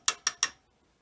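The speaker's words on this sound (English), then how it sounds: "All right, let's unwind this vise." Three quick, sharp metallic ratcheting clicks in even succession as the handle of a bench vise is turned to unwind it, then silence.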